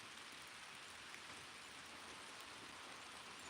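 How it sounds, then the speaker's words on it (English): Steady outdoor rainfall heard from shelter under a small overhang, a soft, even hiss of drops that runs faint and unbroken with no voices. "I'm sure you can hear the rain now."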